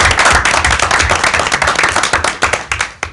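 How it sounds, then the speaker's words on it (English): A committee meeting audience gives a loud, close round of applause for a group of students, fast, dense hand clapping that continues throughout and starts thinning into a few separate claps at the very end. "So I want to take a moment to recognize and give them a round of applause."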